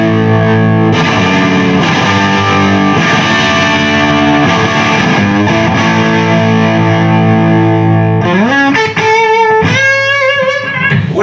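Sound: electric guitar through boosted JTM 45 style amp, mid-hump tone

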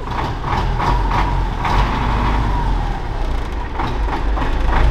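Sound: Belarus 920 tractor engine running

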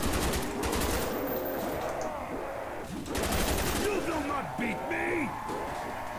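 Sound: RPK machine gun firing in Black Ops II Zombies video game

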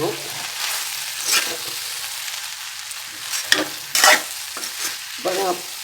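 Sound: okra being stirred while frying in pan

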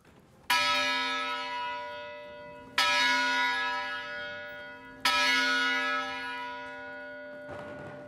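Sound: Sphinx Club ringing the Center Hall bell for class

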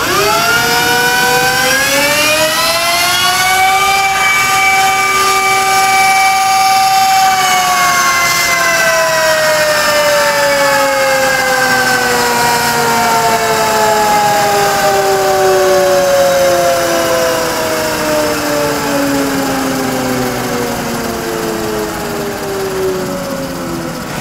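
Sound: electric motorcycle running on a motorized dyno test rig

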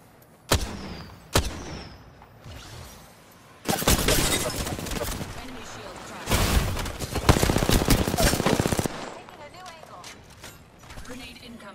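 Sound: gunfire in a video game

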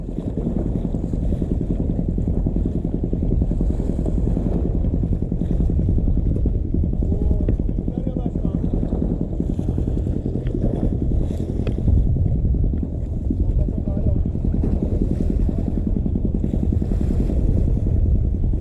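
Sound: boat passing by near fishing spot

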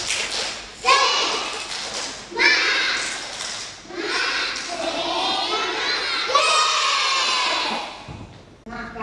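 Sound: children's 'tepuk semangat' clapping cheer

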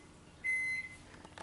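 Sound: microwave oven beeping while cooking a potato

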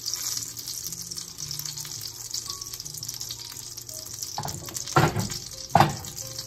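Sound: stirring omelette eggs with a spatula in a hot pan

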